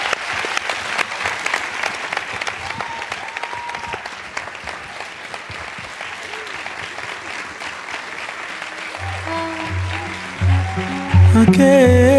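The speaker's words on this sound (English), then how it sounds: "Please, a huge round of applause for Maria Ressa, Oleksandra Matviichuk." Sustained applause from a large audience at the 14th Desmond Tutu International Peace Lecture, a dense steady clatter of many hands filling the hall, with music swelling in near the end.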